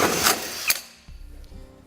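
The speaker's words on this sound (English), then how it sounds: "Now when I begin to start drilling, I'm actually going to stand on this so that way I don't have to worry about my hole saw skipping around" A hole saw bites into the metal bed of a 2017 GMC Sierra pickup, giving a loud continuous grinding whir that sharpens briefly, then drops to a lower rattling hum as it slows.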